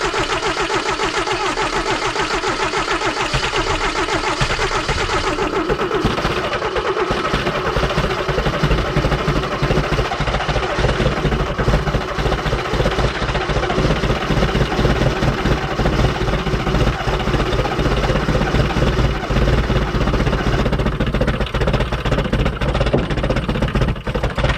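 A Toyota Hilux that sat a very long time on a mountain cranks, catches and runs, its engine rumbling steadily near and loud with throttle blips and rough idling throughout.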